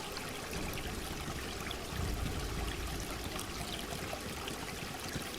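Babbling brook beside a camp in Baldur's Gate, a soft continuous trickle and gurgle of flowing water, quiet and steady with a slight swell midway, no voices over it.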